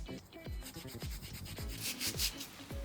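Japanese cucumbers are rolled and rubbed in coarse salt on a board in a home kitchen, a close, gritty scraping in repeated strokes with low thumps as each pass starts, and no talking.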